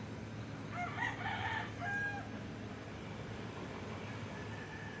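A rooster crowing at a chicken farm beside rice fields early in the morning, one drawn-out crow heard at a moderate distance over a steady outdoor rumble.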